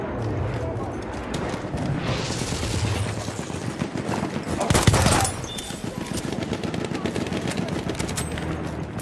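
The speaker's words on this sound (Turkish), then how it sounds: "Orada bir makinalı tüfek var." Machine-gun fire in Battlefield 1 on a Sinai desert map, dense continuous rattling bursts under a busy battle din, with a sharp louder blast near the middle and voices talking over it.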